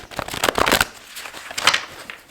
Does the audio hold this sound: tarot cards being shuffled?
yes